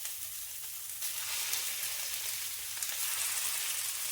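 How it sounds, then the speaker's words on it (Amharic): Swedish meatballs fry in olive oil in a hot pan with a continuous, even sizzle, close and steady throughout, with no voices. "በመጥበሻችን ትንሽ ኦሊቭ ኦይል ጨምራለሁ። ከዛ ሚትቦላችን እንጨምራለን።"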